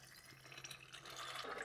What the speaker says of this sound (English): let's put some warm water